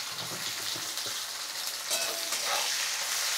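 Chopped onions with a spoonful of panch phoron fry in oil in a kadhai, a steady close hiss and sizzle with faint stirring scrapes, the crackle swelling slightly after the first couple of seconds.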